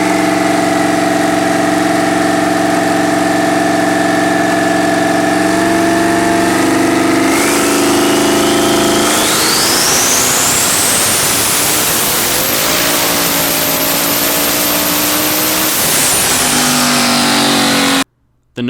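A turbocharged Mustang engine fitted with Precision 6870 turbos runs on a dyno, idling loudly before climbing into a long, rising wide-open pull with turbo whistle, holding near the top, then cutting off abruptly at the end.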